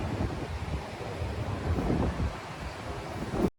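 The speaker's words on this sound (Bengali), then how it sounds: "এই যে এখানে সমুদ্র" Sea waves and wind on the beach at Mandarmani in rainy weather make a steady, close, roaring wash of surf and gusting air throughout, ending in an abrupt cutoff.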